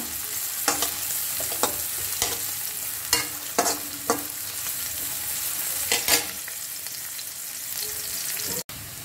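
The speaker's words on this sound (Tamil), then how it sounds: "கொஞ்ச நேரம் ஒரு 1 minute லைட்டா வதங்கட்டும்" Sautéing vegetables for a sesame mixed-vegetable stir fry sizzle steadily in a pan. Sharp scrapes and clatters from stirring break through the hiss at irregular moments.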